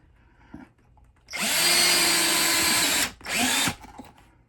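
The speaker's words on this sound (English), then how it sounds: "put in these 4 wood screws" A power drill drives wood screws into a cup holder on a HappiJac Bedlift bench, with one long whirring run followed by a short second burst, close and loud in a quiet room.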